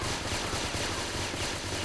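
Rapid automatic gunfire rattles steadily while shooting creatures in a Vietnamese-played first-person shooter game, dense and continuous with no pauses across the whole stretch.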